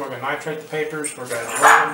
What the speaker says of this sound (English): You can hear my dogs in the background playing.